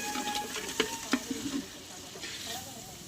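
Ginger garlic paste sautéing in a pan for beef biryani, a steady soft sizzle broken by a few sharp stirring clinks and scrapes of a spoon against the vessel, with no talk.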